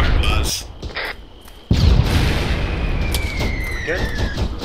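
Mortar rounds bursting nearby during a field training exercise, a sudden heavy boom followed by a long rumbling tail, with an earlier dull impact and voices talking underneath.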